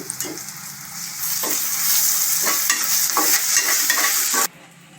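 Loud, steady sizzling of ginger-garlic paste frying in a hot pan, with occasional scraping stirs, ending abruptly.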